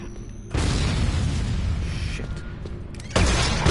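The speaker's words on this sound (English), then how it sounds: "I just exploded a grenade in my face." A grenade blast in the VR game Doom 3, a sudden loud, close boom that rumbles on for seconds, followed by a second heavy burst near the end.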